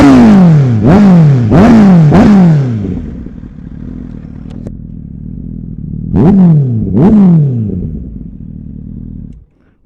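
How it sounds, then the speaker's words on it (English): Honda CBR 1000RR SP motorcycle fitted with a Two Brothers exhaust: sharp, loud revs climb and drop in three quick bursts, then the engine idles with a rumble before two more blips, close up. "I'm gonna make you hear the exhaust sound, how the Two Brothers actually sounds."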